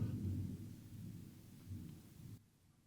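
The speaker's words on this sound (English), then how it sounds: "I hear thunder. I love it when it storms." Low, distant thunder from a storm rolls as a soft rumble that swells twice, quiet and muffled, then cuts off abruptly near the end.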